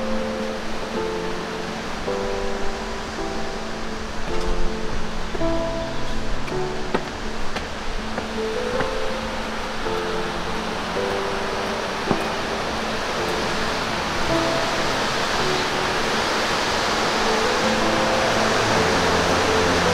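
Steady broadband rush of river water where the Ciliwung and Cisadane rivers meet in Bogor, a continuous wash holding even throughout and growing slightly fuller toward the end, with no voices.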